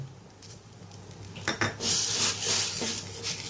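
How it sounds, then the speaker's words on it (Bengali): Dry coconut being stirred in a pan for chandrakola sweet, with scraping and clinking of a utensil against the pan, soft at first then a busier run of scrapes and taps, no talk. "তো ড্রাই কোকোনাটটা দিয়ে দিলাম আমি ভালোভাবে নেড়ে চেড়ে নিই"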